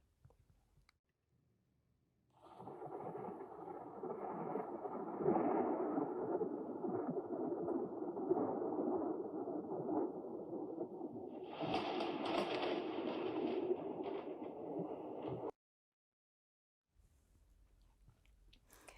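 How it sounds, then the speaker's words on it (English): Recorded stormy weather with a steady broadband roar of rain and wind lasting over ten seconds, a louder crackling burst near the end like close thunder, then an abrupt stop. "Let's listen to a stormy weather together."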